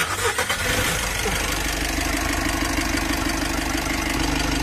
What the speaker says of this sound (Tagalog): Tapos start ko itong makina.